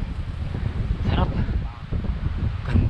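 Strong wind on a mountain summit buffets the microphone in a low, continuous rumble throughout, with faint voices and rustling beneath it.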